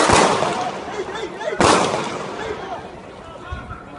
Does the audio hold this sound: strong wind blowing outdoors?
no